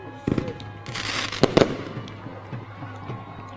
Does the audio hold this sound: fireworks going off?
yes